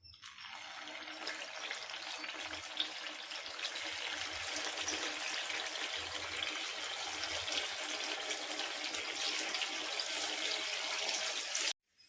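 Paniyaram batter poured into hot oil in the wells of an appam pan, a steady close hiss and sizzle holding evenly for about twelve seconds before cutting off abruptly.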